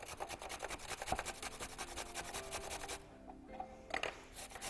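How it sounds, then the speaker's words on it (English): Raw carrots being grated by hand on a kitchen grater, giving a quiet, rapid run of scraping rasps that stops briefly near the end, then picks up again with a few more strokes. "And then you can just grate the carrots as you like."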